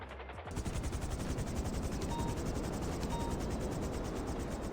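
A helicopter in GTA 5 roleplay gives a loud, continuous rapid rotor chop close by, a dense steady thudding beat with a whining turbine hum, running unbroken.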